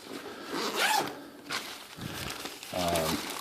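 A zipper is pulled open on the carrying case of a sleep apnea machine, a few quick ripping zip strokes close by with brief rustling of the case between them.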